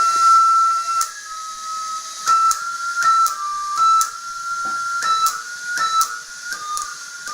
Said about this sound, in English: once water is boiled, actually this kettle can play your favorite music